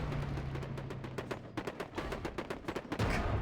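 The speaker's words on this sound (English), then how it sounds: "Cannons, fire!" Cannon fire in the World War Armies strategy video game, a rapid irregular barrage of sharp blasts rolling on without pause, ending in a heavier boom.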